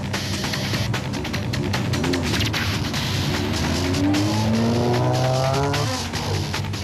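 A Nissan Navara races in the 2007 Sun City 400 off-road race, its engine loud and close, revving with rising and falling pitch sweeps as it accelerates, under constant broadband rumble and gravel noise.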